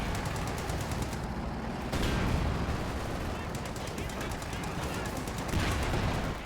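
Rapid bursts of gunfire and heavy explosive shots crackle through a busy battlefield in the World War II strategy game Company of Heroes, with a Sherman tank firing high explosive rounds amid constant noise, dense and unbroken throughout.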